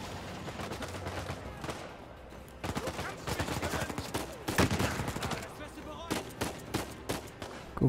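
Gunfire in the video game Uncharted 4 comes in rapid bursts and scattered shots, loud and close. Other game sounds run through it, and someone talks at times.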